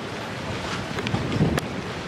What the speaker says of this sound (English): But here's the water taxi.